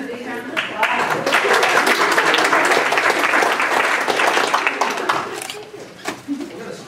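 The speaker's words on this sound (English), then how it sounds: "So give them a big round of applause." Loud, dense applause from a faculty audience at a talk on computational thinking, sustained for several seconds before thinning into scattered claps, with some voices mixed in.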